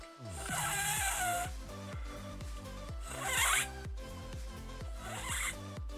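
A beatboxer imitates a zipper with three quick, raspy zipping bursts, each a rapid ratcheting buzz with a hissy top, spaced evenly and heard up close.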